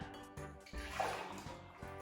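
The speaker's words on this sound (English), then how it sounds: "It's easy to pour from a jug." Curdled panna cotta pours from a jug in a short, soft liquid glug and trickle, close and fairly quiet, with no voices.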